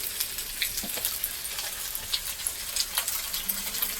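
Meat frying in a pan with salt and spices, a dense, close sizzle with irregular clatters from stirring, heard alone without voices.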